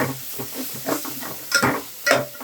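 Cumin powder and chili powder being stirred into a brinjal curry in a pan, repeated spatula scrapes and knocks in an uneven rhythm over a light sizzle, close and fairly loud.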